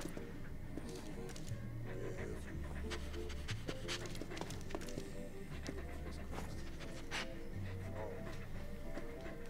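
A dog pants steadily in the World War I game Valiant Hearts, the quick breaths running beneath constant game music with soft tonal notes throughout.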